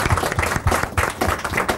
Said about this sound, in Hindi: तालियां बनती है इस वक्त।